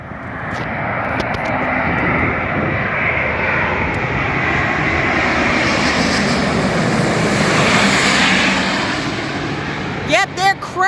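An Asiana Airbus A350 airliner coming in to land, its jet engines roaring loud and steady for several seconds before easing off, with a voice breaking in near the end.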